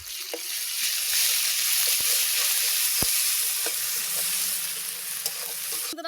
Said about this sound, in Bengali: আদা রসুন বাটাটা দিয়ে দেবো।